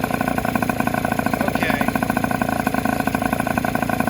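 A Honda Urban Express NU50 moped engine idles steadily at about 1,800 RPM, a fast even putter close by with a slight rattle, no voices over it.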